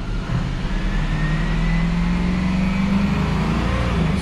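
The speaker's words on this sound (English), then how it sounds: "Truck is running." A 6.0L Powerstroke diesel truck engine with a turbo underboost fault runs rough at idle nearby, a loud steady rumble with a faintly wavering tone and a slight rise in pitch, with no talking.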